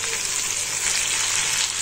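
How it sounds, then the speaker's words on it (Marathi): Pieces of paneer fry in hot oil for paneer kadai, a steady dense sizzle that holds close and constant throughout with no talking. "असं मस्तपैकी आता आपण हे फ्राय करून घ्यायचं."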